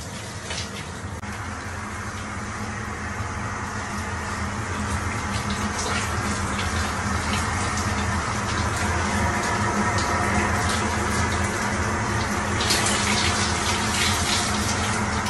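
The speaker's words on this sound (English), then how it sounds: "when you have a shower on a plane, you're in the air." Steady rushing water from a shower aboard an airplane in flight runs continuously, close and fairly loud, over a low constant background hum.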